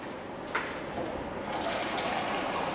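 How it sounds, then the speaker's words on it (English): Cold water poured into a measuring jug for rough puff pastry dough, a steady liquid rush that swells and brightens partway through, close and continuous with no talk. "125 mils of cold water."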